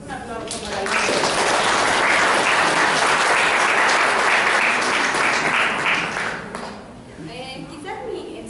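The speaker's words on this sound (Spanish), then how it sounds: "Un aplauso para el" An audience at a reading and literature talk breaks into loud, sustained applause that swells quickly, holds for several seconds, then fades as a voice begins speaking.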